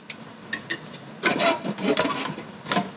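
A stuck carburetor is pried loose from a JCPenney Bird minibike, giving a few light taps followed by close, gritty scraping and grinding bursts of metal rubbing against metal.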